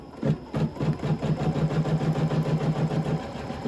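A sewing machine running at reduced speed stitches fabric for a nesting basket, a steady close mechanical hum pulsing with fast, even needle strokes throughout.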